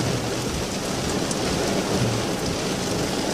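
Heavy rain pours steadily during a severe thunderstorm, a dense, even hiss that fills the whole stretch without pause and with no one speaking.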